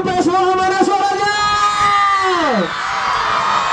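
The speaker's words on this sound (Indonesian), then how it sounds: "Teriakan pendukung PSWH, mana suaranya?" Supporters of the football team PS WOHA cheer and shout at a local league knockout match, a loud sustained crowd roar with rising and falling yells and whoops close by.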